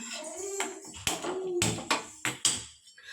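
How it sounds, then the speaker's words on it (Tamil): A kitchen stove being switched on while cooking rava gives several sharp clicks and knocks, spaced irregularly over a faint, steady background. "இப்போ ஸ்டவ் ஆன் பண்ணிக்கிறேன்"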